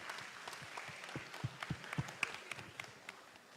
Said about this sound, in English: Please give a big round of applause to the girl